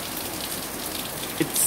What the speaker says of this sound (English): Can you hear the sound of the rain?